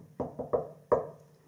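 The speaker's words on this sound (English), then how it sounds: "so they knock on doors" Knocks on a door in a read-aloud pirate story, four sharp raps in an uneven pattern, the last one separated by a short pause, close and fairly quiet with no talking over them.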